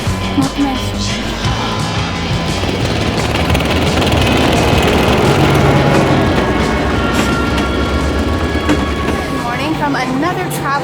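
Steady rumble and rattle of a passenger train running from Bucharest, Romania toward Veliko Tarnovo, Bulgaria, loud and continuous for the whole stretch, with wheel clatter and faint voices in the background.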